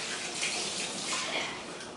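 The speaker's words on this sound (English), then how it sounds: "So I'm just going to wash my hands real quick." Running water pours steadily at a sink while hands are washed with soap, a constant broadband splash and hiss heard alone with no talking.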